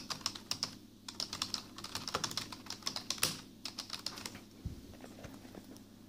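Typing on a Lenovo Calliope USB keyboard with a plasticky feel: rapid, close clicks and clacks of keystrokes in uneven bursts over a quiet room, with no voice.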